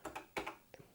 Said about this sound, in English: Now I just type in cload